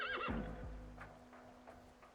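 Horse in the video game Reverse 1999 lets out a short, loud whinny, then a low snort, followed by quieter stirring and a few soft hoof thuds on grass.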